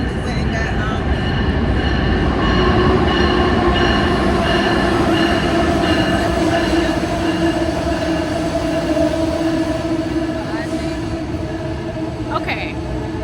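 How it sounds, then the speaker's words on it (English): A train rolls past close by, a steady loud rumble of wheels and carriages with faint tonal squeals, holding for several seconds and easing slightly toward the end. "let's wait for the train to go by"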